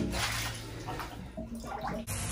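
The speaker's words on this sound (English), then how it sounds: "This right now is just the shower running like I normally use it whenever I'm taking a shower" Water from a shower runs steadily into a bathtub and drains away, a soft continuous hiss and splash with slight fluctuations, close by and heard alone.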